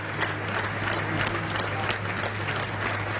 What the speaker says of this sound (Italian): Un lungo applauso ancora